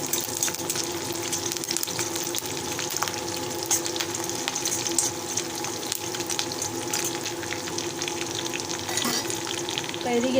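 Curry leaves dropped into hot oil in a home kitchen sputter and sizzle in a steady, moderately loud crackle, with a few sharper pops scattered through and faint background clatter.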